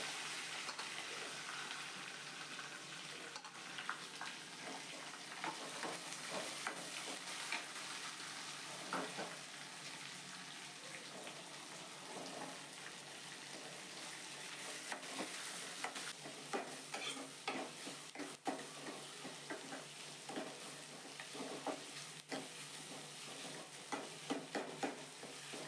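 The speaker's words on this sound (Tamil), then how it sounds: "இப்போ வெங்காயம் சேர்க்குறேன்." Onions frying in oil alongside green chillies and curry leaves for potato sagu, a steady crackling sizzle with frequent stirring scrapes and clicks that grow busier toward the end, faint overall, with no talk.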